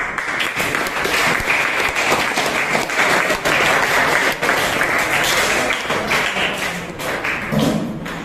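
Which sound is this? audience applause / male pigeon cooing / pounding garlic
audience applause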